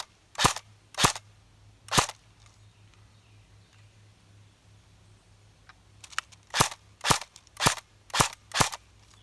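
Cyma AKS74U airsoft gun firing single shots: three sharp snaps spaced apart, a quiet pause, then a quicker string of six crisp reports, close and loud over a low background hum.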